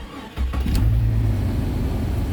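A Jeep XJ engine with a newly replaced fuel injector cranks and catches, then idles loud and close with a low, uneven rumble, running rough.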